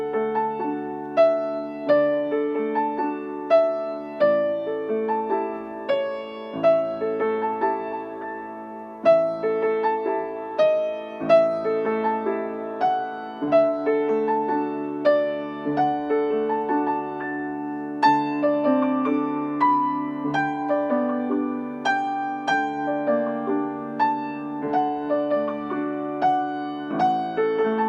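Solo piano plays a Burgmüller étude at a steady, gentle pace, with repeated melodic notes ringing over sustained lower harmony. The playing is close and clear, with no voice heard.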